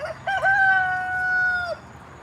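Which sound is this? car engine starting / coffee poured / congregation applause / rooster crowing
rooster crowing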